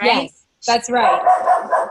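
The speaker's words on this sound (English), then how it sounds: "Sorry about the barking." Dogs bark in short bursts, partly overlapping with conversational voices that speak through most of the moment.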